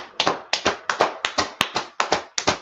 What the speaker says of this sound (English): let's clap it up for them sisters